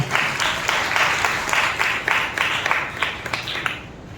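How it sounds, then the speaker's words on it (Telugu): A church congregation claps loudly together at a Telugu evening worship service, a steady dense patter of many hands that pulses in bursts for several seconds, close and full, with no talking over it. "బిగ్గరగా చప్పట్లు కొట్టండి"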